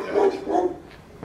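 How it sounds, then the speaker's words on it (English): A dog gives two quick barks, moderately close and clear, with a short gap between them, then falls quiet for the rest of the moment. "Barking dog and all"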